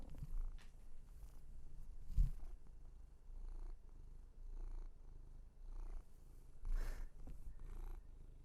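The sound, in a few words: cat purring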